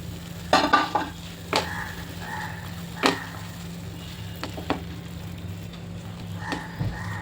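Fenugreek leaves sauté in oil for a creamy methi matar dish, a low quiet sizzle punctuated by a few sharp spatula scrapes and knocks against the pan.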